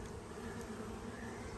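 Honeybees hum steadily around simple finger-jointed wooden hives newly set up from packages, a soft, even, close buzz with no voices.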